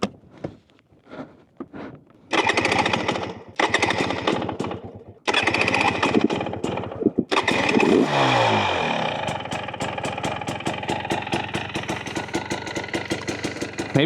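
A 2024 Husqvarna TE250 off-road motorcycle fitted with an FMF Turbine Core 2.1 exhaust fires up in cold weather after a few sputtering cranks, then settles into a loud, rapid, popping two-stroke idle close by, with no talking.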